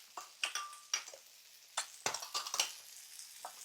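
Stir-fry vegetables with asparagus and peas being stirred and tossed in a pan: a close run of scraping clinks and light sizzling scuffs in irregular bursts, each stroke sharp and short with quiet gaps between.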